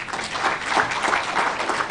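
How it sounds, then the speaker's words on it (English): Audience applause for conference panelists at a Supreme Court event, a steady dense clapping of many hands filling a hall, fairly loud and sustained throughout with no talk over it. "Please, can we have a deserving applause for the panelists?"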